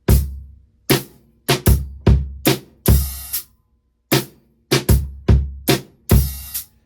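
A crisp drum groove plays alone: punchy bass drum hits with sharp hi-hat strokes in a steady repeating pattern, one brief gap midway.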